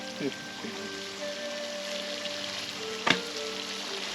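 Goat blood fry sizzles steadily in a hot pan while it is stirred, with a couple of sharp scraping clanks of the spoon against the metal and faint voices underneath.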